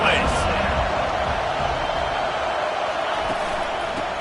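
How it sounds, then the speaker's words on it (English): A stadium crowd in an NCAA college football video game roars continuously, a dense loud wash of cheering that holds steady throughout. "this crowd is tearing the lid off this place"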